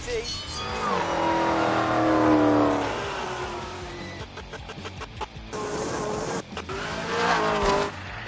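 A Hennessy-tuned 1,000 hp Camaro in a video game revs and accelerates loudly with rising engine whine and occasional tire squeal, heard steadily throughout.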